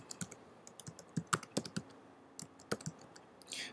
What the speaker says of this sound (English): You do that by going to the address bar up here and you type in administrator.